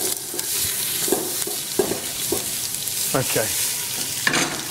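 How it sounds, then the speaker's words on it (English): Onions and celery sweat in olive oil with a steady close sizzle, punctuated by several spoon stirs and scrapes against the pan; a voice speaks briefly once. "I'm going to sweat off in olive oil the onions and the celery"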